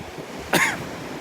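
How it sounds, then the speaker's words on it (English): A single sharp cough on a windy beach, brought on by red tide, short and close against faint surf and wind. "Making me cough here."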